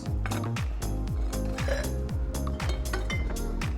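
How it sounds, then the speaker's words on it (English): Ice cubes drop into a cocktail glass and tin in a bar setting, making a rapid series of bright, close clinks and rattles. "Then we add ice to our tin. Ice to our glass,"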